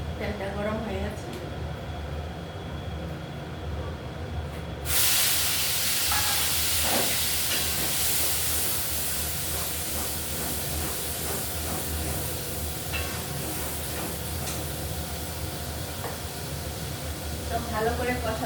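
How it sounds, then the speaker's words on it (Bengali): Prawn curry with spices sautéing in hot oil, a loud continuous sizzle and hiss that jumps sharply in intensity partway through and stays strong, with clinks of a utensil and a voice talking over it. "তো ভালো করে কষাতে হবে, কষিয়ে নিলাম।"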